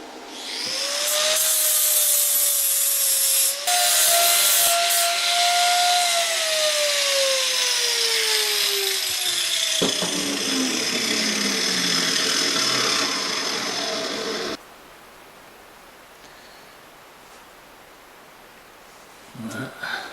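Angle grinder working the edges and corners of a homemade concrete mixer, a loud continuous whine with the pitch sliding and dipping as the disc bites the metal, then cutting off abruptly with quieter rustling afterward.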